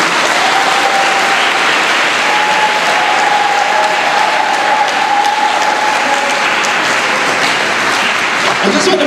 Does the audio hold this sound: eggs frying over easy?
no